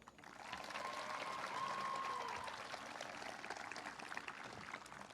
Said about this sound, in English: Seniors, please show your appreciation and honor the Panther faculty and staff with applause.